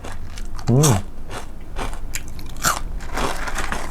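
Crispy fried fish eaten as a topping on a spicy pomelo salad, a few crunchy bites close to the mouth, with a short vocal sound of the eater.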